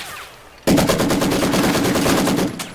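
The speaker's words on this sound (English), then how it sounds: "Machine gun ready." After a quiet moment, a machine gun in a war game opens up with a loud, rapid, steady burst of close fire lasting about two seconds before it tapers off.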